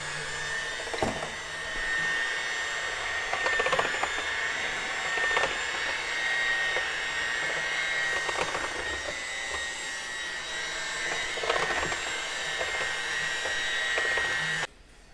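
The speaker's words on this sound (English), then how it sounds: "now we're going to stir all this up, mix it" An electric mixer whirs steadily as milk and crepe batter are mixed, a loud continuous motorized hum with faint clicks and knocks against the bowl, cutting off sharply near the end.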